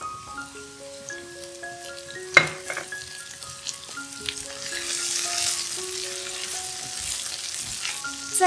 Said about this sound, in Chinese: 炒至颜色稍微变色后，放入小番茄，炒一炒